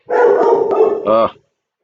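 A dog barks close by in a short burst, with one or two sharp yaps near the end and a person's voice talking over the noise.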